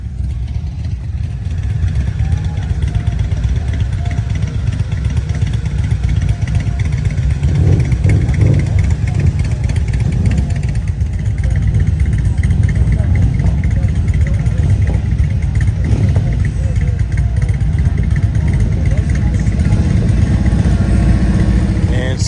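An old inline-four Honda-style 1000 motorcycle engine idles steadily at a beach bike rally, a continuous low rumble with faint crowd noise and other engines in the background.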